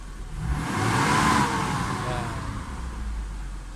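A Mitsubishi Adventure with a 4G63 engine and a faulty RPM gauge revs up, its mid-pitched whir swelling briefly and then settling to a steady idle, moderately loud and close, with a faint voice underneath.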